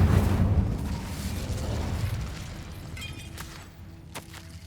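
Incendio fire spell cast in Hogwarts Legacy: a loud, roaring burst of flame that rumbles low, then slowly fades, with a few faint clinks near the end.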